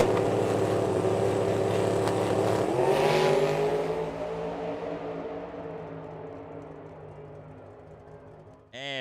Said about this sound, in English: Richard Shelley ready to send his Mustang down the racetrack.